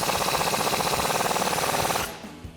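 Tightening the lower strut mount bolt on a Charger with an 18mm socket produces a fast, loud mechanical rattle that hammers steadily for two seconds and then stops abruptly, leaving a faint clunk.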